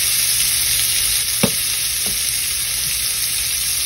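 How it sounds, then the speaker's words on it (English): Onions sautéing in bacon fat in a pan, with salt and black pepper added, give a steady, loud sizzle and fry throughout, and two brief scrape or stir knocks cut through midway. "we're gonna saute our onions for about 7 minutes"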